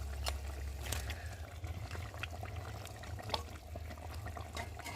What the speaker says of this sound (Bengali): তো দেখো ঝোলটা ফুটে গেছে আর এখন ভেজে রাখা মাছগুলোকে দিয়ে ভালো করে ফুটিয়ে নেব।